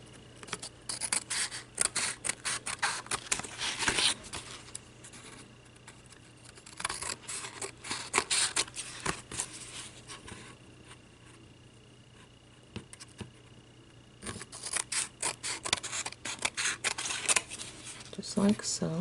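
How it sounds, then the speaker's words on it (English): Scissor blades snip through cardboard while making a handmade Father's Day pick-me-up tag, with bursts of close crisp cutting and scraping separated by quieter pauses, a low steady hum beneath. "lay my blades right against the cardboard and just cut."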